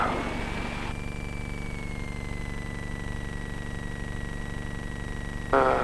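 A light aircraft engine idling at 1000 rpm gives a steady, even drone with a thin high whine above it, continuous and unchanging, with no voices.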